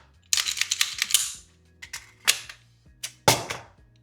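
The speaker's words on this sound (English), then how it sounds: "So the gun releases the mag again." Magazine dropping out of a Fusion XP Pro pistol after a slide-catch release: a quick run of sharp metallic clicks and clacks, then a few separate louder snaps and rattles, close and clear with no talking.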